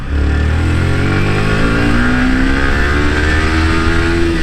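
A Yamaha R15 v3 150 cc motorcycle engine accelerates steadily in second gear, its rising drone continuous and loud from start to finish, with no voices present.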